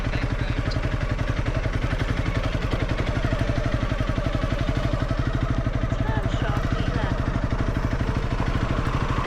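A motorcycle riding on a flat tyre pulls onto a minor road, its engine giving a steady, loud, close chugging pulse throughout, with a rider talking over it.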